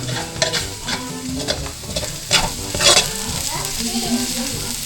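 Kikiam fried rice with garlic is stirred in a hot pan, giving loud sizzling and frying with repeated scraping strokes of a spatula, all without voices.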